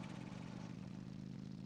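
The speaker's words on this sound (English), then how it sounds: "I'm actually just gonna hop on my motorcycle right here," A motorcycle mount in World of Warcraft Classic hums with a steady mid-pitched engine drone, close and constant throughout a short moment with no talk.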